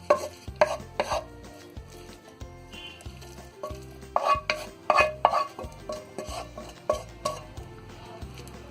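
Chopped vegetables are tipped into a bowl and mixed, with scattered clinks, scrapes and rustling stirs over a steady background music track.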